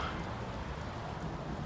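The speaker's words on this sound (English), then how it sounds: "Well, don't question the rain, Arthur." Steady rain falls as a soft, continuous wash of hiss and patter, faint and even throughout the short stretch, with no talk over it.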